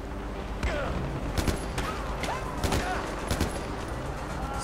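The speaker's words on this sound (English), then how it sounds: "Stop shooting at me." Bursts of gunfire from the video game Far Cry 4, several sharp shots and short volleys scattered through a busy battle mix, with a voice talking over parts of it.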